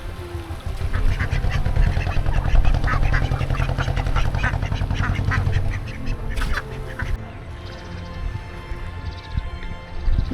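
A flock of village ducks quacks loudly and continuously near a riverside house in the Sundarbans, the dense chorus thinning out toward the end.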